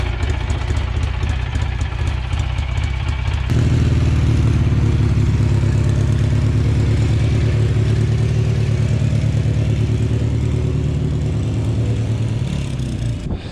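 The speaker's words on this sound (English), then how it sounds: "It has an 18 horsepower Kohler in here." An 18 horsepower Kohler engine cranks briefly, then catches and settles into a loud, steady, close running drone that holds until the end.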